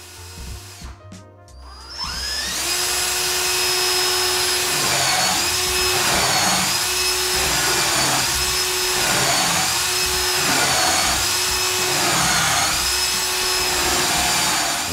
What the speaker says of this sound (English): use light pressure when you move the brush back and forth, approximately a foot at a time towards the tail